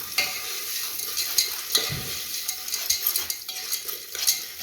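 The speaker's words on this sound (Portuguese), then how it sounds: "Dá uma mexidinha." Popcorn kernels with salt are stirred in a pressure cooker pot over a campfire, a steady scraping and sizzling in hot oil with repeated clinks of a utensil against the metal, close and fairly loud with no talk.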